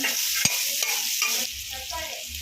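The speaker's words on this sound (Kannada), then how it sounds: "ಉಪ್ಪು ಹಾಕಿದ್ರೆ ಈಗ ಚೆನ್ನಾಗಿ ಫ್ರೈ ಮಾಡೋಣ" Tomato and onion fry with salt in a hot pan, making a dense, even sizzle with a couple of sharp spatula knocks and soft stirring scrapes, close and loud throughout.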